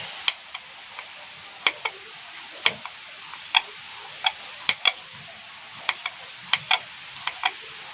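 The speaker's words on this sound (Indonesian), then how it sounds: "Ini kita iris dulu bumbu-bumbunya teman-teman. Ada bawang putih," Sharp knife taps on a cutting board while slicing garlic and other spice ingredients, roughly twenty irregular close clicks spread with short pauses, no talking.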